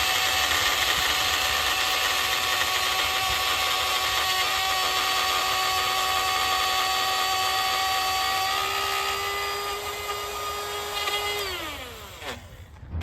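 A router cuts a groove into the edge of a door for a flush bolt, a loud, steady high-pitched whine that holds for several seconds and then spins down as the motor is switched off.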